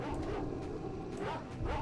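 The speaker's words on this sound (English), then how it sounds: "It's a lot of dogs, though." Several dogs bark and yip in quick bursts over a dense, noisy background in the video game STALKER: Shadow of Chernobyl, a busy overlapping chorus of canine calls.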